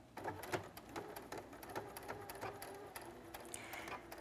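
A sewing machine stitches slowly along a blouse seam, giving a quiet, steady run of fast mechanical ticks and whirring with a few brief pauses and no talking.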